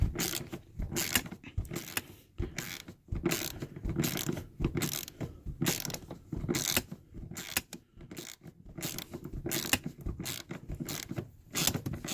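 A socket ratchet clicks in quick repeated bursts while loosening a long, shallow-headed front seat bolt on a Pontiac Grand Prix, close and clear with short pauses between strokes.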